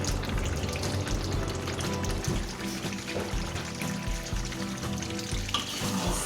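Chicken frying in hot oil for a Minang-style rendang with jackfruit, a loud, dense, continuous sizzle and crackle close up, with no voices.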